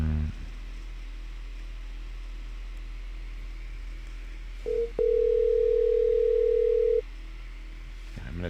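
A landline telephone gives a steady electronic dial tone right after a call is hung up, close and loud over faint room hiss and a fan hum.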